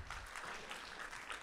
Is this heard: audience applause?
yes